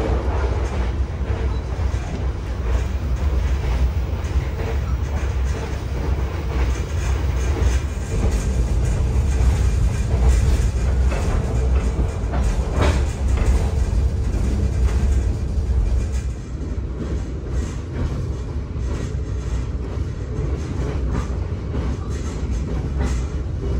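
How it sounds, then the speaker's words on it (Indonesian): Argo Merbabu passenger train rolling along rails, heard from inside the carriage as a loud, continuous rumble with steady clickety-clack of wheels over rail joints that eases slightly toward the end. "untuk perjalanan naik kereta api Argo Merbabu tambahan kali ini"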